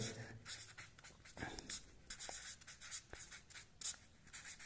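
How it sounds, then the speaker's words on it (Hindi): A pen or pencil writes by hand on paper, a faint, close scratching in short strokes and taps that come and go at an irregular pace in a quiet room. "मैं यहाँ पर आपको लिख कर दिखाता हूँ ये देखिएगा"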